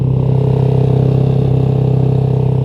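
A motorcycle engine idles too high, around 4,000 rpm, from a misset idle screw, holding a loud, steady, fast-pulsing drone close by with no change in pitch throughout.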